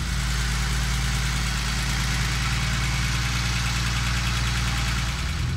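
A Mercedes-Benz M110 engine idles steadily, close and loud, with a continuous low hum and a fine ticking texture running throughout.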